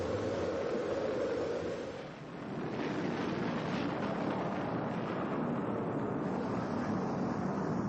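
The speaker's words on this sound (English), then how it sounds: "We've gone for main engine start. We have the start." Rocket main engines igniting at launch, a loud, continuous broadband roar that fills the whole clip with only a brief dip partway through, alone without talk.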